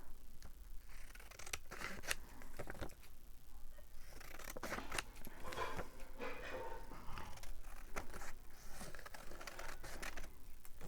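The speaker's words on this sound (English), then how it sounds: "my other thought was to cut this flower out" Scissors snip steadily through paper while a flower shape is cut out, a close run of short crisp cuts with brief pauses between them and no talking.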